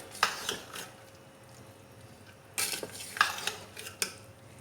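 Spoon stirring sweet zarda rice in a metal pot, giving a few scraping clinks and knocks against the pot over a low background hum.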